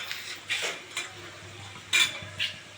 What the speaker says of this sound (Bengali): কেটে রাখা বাঁধাকপিটা দিয়ে দিচ্ছি